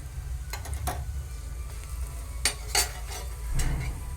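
Methi-bajri bhakhri roasts in oil on a pan, with a low steady sizzle and a few sharp scrapes and clinks of a spoon turning it.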